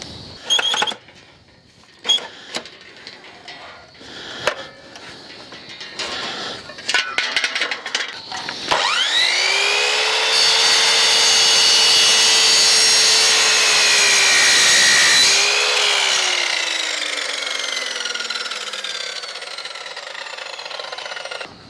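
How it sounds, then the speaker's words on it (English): A saw fitted with a fine 80-tooth blade cuts aluminium on a steel barn frame, starting with scattered knocks and handling clatter, then spinning up to a loud sustained whine that holds for several seconds before winding down. "the saw blade I've got on here is a fine tooth one, so I think it's an 80 tooth. So it will cut aluminium"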